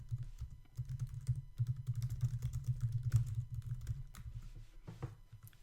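Someone types on a computer keyboard in a quiet room. Soft, rapid key clicks run in steady bursts with brief pauses between them.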